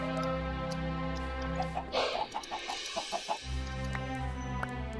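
Minecraft chickens cluck in a quick run of short, clipped calls over a steady hum of game background sound, fairly quiet and with no talk.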